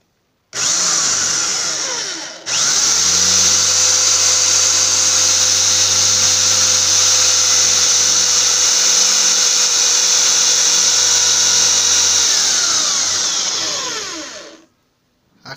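A power drill bores dowel holes into wooden boards for a joint assembled without nails or screws. It whines loudly and steadily at close range, stops briefly, then runs again for about twelve seconds before winding down.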